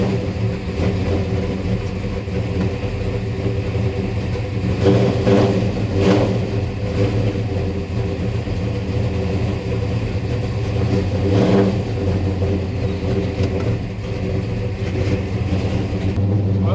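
A car fitted with Holley Dominator carburetors is driven on the road, its engine rumbling steadily with a few louder revving surges, heard close and continuous with no talking.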